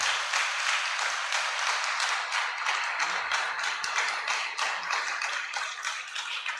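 Audience at a question-and-answer conference-debate for young singles clapping to vote on holding a third edition; brisk, steady clapping with distinct individual claps, fairly close and continuous throughout.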